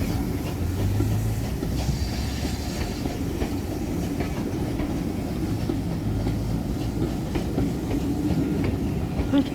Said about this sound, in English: And there's a train probably bound from Cheltenham.